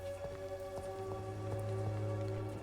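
Rain falling in the video game Vampyr, a soft, steady patter of drops under quiet background music tones. It stays faint and even throughout, and no one speaks.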